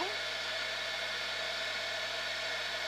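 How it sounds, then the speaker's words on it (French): A heat gun blows on EVA foam to soften it for shaping Valentine's hearts, a steady close whooshing hiss with a constant low hum, unbroken and alone. "c'est là que le airgun va intervenir. Je vais venir le chauffer."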